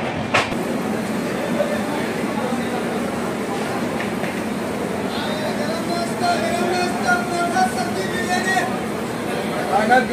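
Vivek Express train arriving at Guwahati station on India's easternmost rail route, a steady rumble of rolling coaches with faint squeals and rattles, while people talk nearby throughout.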